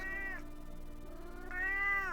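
A cat meows twice, close and fairly quiet indoors, two drawn-out rising calls separated by a short pause.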